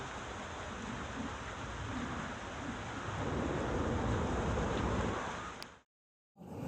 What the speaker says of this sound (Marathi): पाऊस थांबलेलाच नाही, पाऊस कंटिन्यू पडतो.